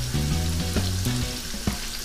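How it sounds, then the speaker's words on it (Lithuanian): Cheese fingers frying over gentle heat in a pan, a steady close sizzle running throughout with a few soft clicks and no voices. "Taip, silpnai, normaliai kepame porą minučių iš abiejų pusių."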